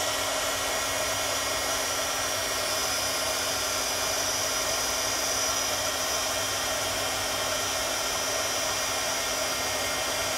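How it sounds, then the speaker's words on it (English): A handheld heat tool for card making blows hot air in a steady, loud, unbroken whoosh with no pauses and no voices. "let's grab the heat tool, and it'll just take a second."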